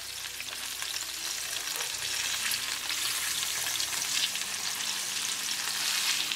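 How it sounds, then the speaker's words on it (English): Ranch-seasoned pork loin chops fry in a pan with a steady, dense sizzle that holds at an even level throughout, close up and with no voices over it. "Got our ranch seasoned up pork loin chops going frying away here."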